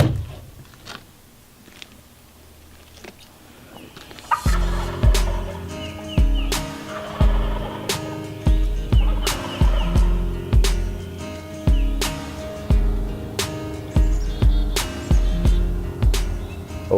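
Opening-weekend turkey hunting in New Jersey: after a quiet stretch, a sudden busy passage of loud, repeated sharp calls and strikes starts and continues, overlapping and near, with no talking.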